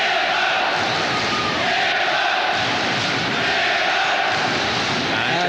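A boxing crowd roars loudly at the start of round one of a professional bout, a dense continuous wall of shouting and cheering with no break, close and heavy throughout.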